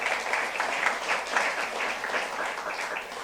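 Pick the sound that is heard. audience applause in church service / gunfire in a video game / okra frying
audience applause in church service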